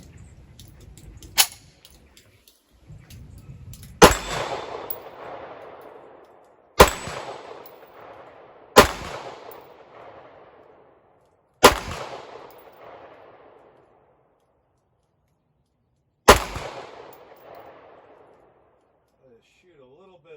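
A CZ-75B pistol fires hollow point ammo, with six sharp, loud single shots spaced a few seconds apart outdoors, each followed by a short echoing decay, with brief talk between shots.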